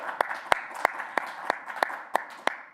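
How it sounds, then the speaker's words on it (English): Applause from a fundraising dinner crowd for donors, heard as a steady run of sharp, fairly even hand claps over a soft bed of scattered clapping, moderately close and without voices. "let's give all of our donors who have given tonight a huge round of applause"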